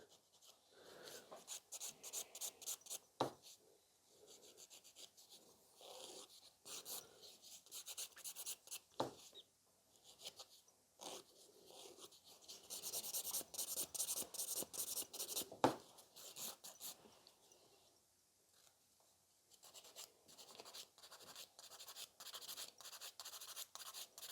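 A nail file rasps in short, quick strokes against an acrylic nail extension to taper it, soft and close, in bursts with brief pauses between them.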